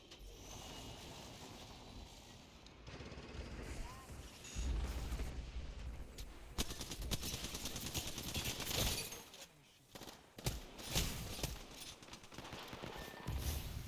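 Rapid bursts of gunfire and explosive booms in a video game battle, loud and dense with repeated volleys, with a player talking over the action.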